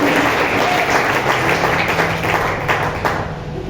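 A church congregation claps loudly in praise during a Spanish-language sermon, a thick wash of many hands rising and falling over a faint hum, with no voice heard over it.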